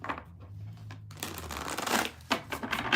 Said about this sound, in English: After I shuffle.